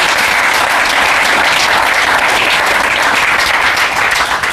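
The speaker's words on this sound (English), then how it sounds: "I'd ask you to give a round of applause to all of the members of the panel" An audience at a North Sydney Council launch event applauds a panel, a dense, loud burst of clapping that fades slightly at the end.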